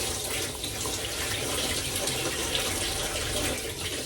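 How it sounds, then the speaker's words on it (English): Lentils being rinsed under a running kitchen tap for a lentil and sweet potato soup, a steady loud rush of water splashing into a sink with no pauses and no talking. "Just rinse them out. Give them a good rinse."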